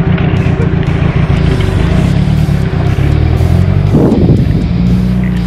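An old Jeep driving a bumpy dirt road beside the Kruger National Park fence. A loud, continuous engine rumble sits close by, rattling with jolts from the rough surface, and a voice is faintly heard.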